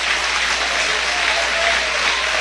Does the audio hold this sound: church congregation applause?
yes